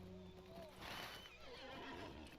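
A horse in the Lord of the Rings Online game lets out a faint whinny that rises and wavers briefly over steady background game ambience.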